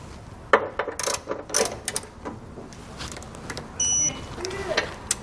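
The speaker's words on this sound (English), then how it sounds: "Then we can go back and torque our hardware to the specifications found in our instructions." Trailer hitch bolts being torqued on a 2020 Jeep Grand Cherokee: close, irregular ratchet clicks and metallic tool clatter, with one brief electronic beep partway through.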